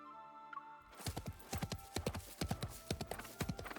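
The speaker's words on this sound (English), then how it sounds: "Suddenly hoofbeats echo faintly through the heavy mist behind me." Horse hooves clip-clop in a steady, rhythmic trot through heavy mist in a video game, starting after a brief quiet moment and continuing loud and close throughout.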